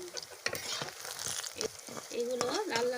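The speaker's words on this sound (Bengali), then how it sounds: "এগুলো লাল লাল করে ভেজে নিতে হবে।" Cauliflower, potato and banana flower kofta frying in hot oil in an iron wok, a steady close sizzle with scattered clicks and taps of a utensil turning the balls, a tonal whine rising near the end.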